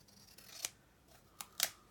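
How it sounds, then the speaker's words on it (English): A paper trimmer cuts the rough edges of a handmade easel-fold card, making three quick, crisp slicing snaps, one early and two close together near the end, faint against a quiet background. "I just trim them a bit tidier. It's my paper trimmer, it is."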